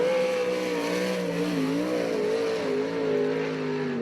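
A USAC/CRA sprint car runs a qualifying lap at Alger, Washington. Its engine roars loud and continuous, the pitch rising and falling as it revs through the lap.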